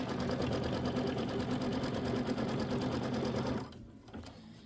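A sewing machine runs fast and steady while stitching a small quilt block, a close, dense mechanical whir that stops abruptly near the end, followed by a faint click.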